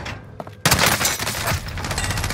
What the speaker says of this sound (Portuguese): dei um tiro de 12